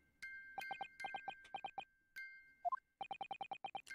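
A music box in The Great Ace Attorney chimes a rapid series of bright, evenly spaced metallic notes, paused in short gaps and resuming in quick, regular bursts, heard alone and clear.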